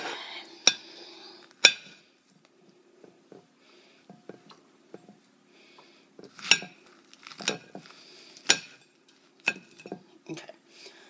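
Close, sparse crunchy cuts of a kitchen knife slicing through a prickly artichoke, a handful of sharp clicks and knocks against a cutting board separated by quiet gaps, with soft hum underneath.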